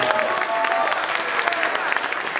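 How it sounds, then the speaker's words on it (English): A crowd at Sakura-con 2017 claps in steady, dense applause that holds at an even level throughout, with a few voices mixed in. "Let's give another big round of applause"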